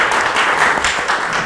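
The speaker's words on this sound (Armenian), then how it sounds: "Եկեք մի հատ ծափարենք Արմենին։" Brief burst of dense audience clapping, fairly close and loud, at a business talk show honoring an entrepreneur from Eco Motors.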